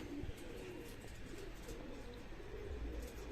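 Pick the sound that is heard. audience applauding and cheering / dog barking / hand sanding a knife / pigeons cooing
pigeons cooing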